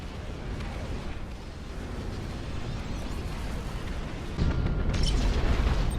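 An enemy dreadnought blows up in the real-time strategy game Ashes of the Singularity: a sustained, rumbling explosive roar that swells louder partway through and carries on without speech.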